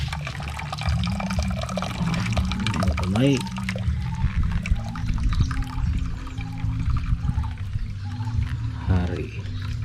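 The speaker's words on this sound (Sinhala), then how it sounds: "මේක වතුර ටික අස් කරලා ගන්න ඕන." Water is drained off and pours steadily while a traditional Sri Lankan village achcharu pickle is prepared, a continuous trickling and splashing heard under people talking.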